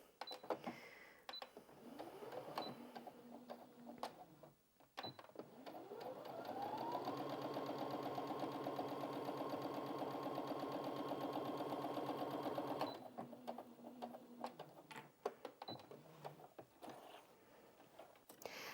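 A Brother Innov-is A50 sewing machine runs a straight stitch, its motor rising to a steady, fairly quiet hum for several seconds before winding down, with softer clicks and handling sounds before and after.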